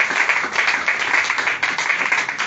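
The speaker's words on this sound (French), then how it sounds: "Acclamons plus fort pour la gloire du Seigneur." A church congregation applauding and cheering in unison, dense steady clapping with bright crowd noise, close and sustained throughout.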